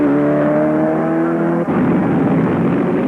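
Race cars thunder around the steeply banked Daytona track during Speed Week, one loud engine roaring close by, its pitch dropping sharply as it passes and then a rough roar fading off.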